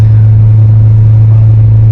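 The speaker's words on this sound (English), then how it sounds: "I'm talking a little louder as the truck's higher in RPM." A Duramax LML diesel pickup engine held at higher RPM gives a loud, steady low drone and rumble from inside the cab, with no speech over it.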